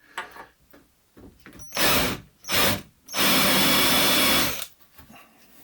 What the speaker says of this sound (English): I have to drill just a little bit deeper this part